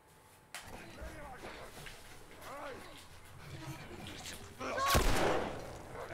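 In The Last of Us, a player fires on a clicker, and a sharp gunshot cracks out under ongoing conversation among players, with faint scuffling around it.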